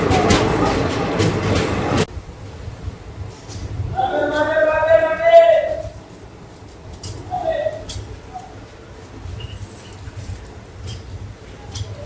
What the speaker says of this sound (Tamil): மச்சிலிப்பட்டினம் தர்மாவரம் ட்ரெயின்.